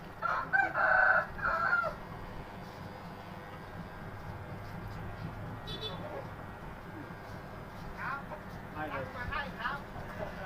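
Rooster crows in a loud burst near the start while chickens cluck and call around it, with later, fainter calls over steady background noise and some voices.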